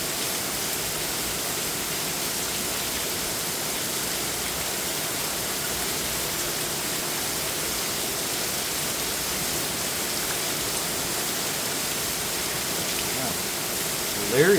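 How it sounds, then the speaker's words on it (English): Heavy rain pouring down in Chandler, Arizona, a dense, steady roar of falling water that holds unchanged throughout, close and enveloping with no pauses. "I've never seen it rain like this"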